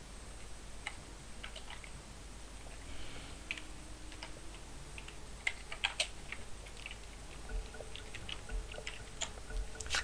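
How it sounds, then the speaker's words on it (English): Keys clack on a computer keyboard during a DotA 2 session, quick irregular taps and bursts over a quiet background hum. "you're actually typing wrong"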